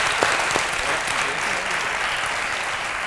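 Applause from a small group after an interview, steady clapping with a couple of sharper claps near the start, moderately loud and continuous throughout.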